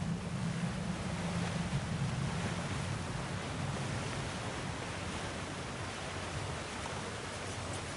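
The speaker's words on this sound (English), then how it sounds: "Sounds like you got the water moving along, brother" Rushing water in the video game God of War, a steady broad roar like surf or a strong current that stays constant and moderately loud throughout, with no voices.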